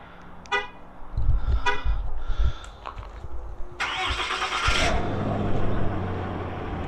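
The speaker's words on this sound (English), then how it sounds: "I'm going to start the tow rig here" A tow rig's engine cranks with a few clanking bursts, then catches and settles into a steady, close running note, with no one speaking.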